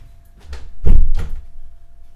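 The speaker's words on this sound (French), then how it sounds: "j'ai une porte qui s'est ouverte, il faut juste que je l'ouvre, que je la referme" An indoor door opened and shut close by, giving a soft creak followed by a solid thunk and a second lighter knock, all within about a second in a quiet room.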